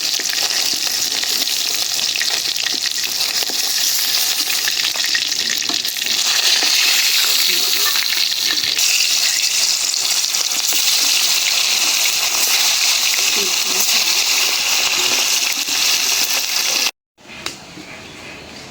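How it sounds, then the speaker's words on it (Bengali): Sea surma fish frying in oil in a wok: a loud, steady, dense sizzle that runs continuously, cuts out abruptly near the end, then resumes more softly. "মাছগুলি ভাইজা নিলাম"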